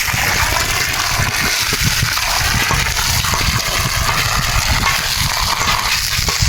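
Water gushes from a pump onto a house foundation at a building site, a loud, continuous rushing flow that stays steady and close with no voices.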